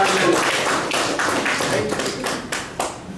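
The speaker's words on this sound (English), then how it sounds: "So let's give her a round of applause, Sister Carnita." An audience at a repatriation and investment conference in Ghana claps for a psychologist speaker, a loud, dense patter of many hands that holds steady throughout the brief moment.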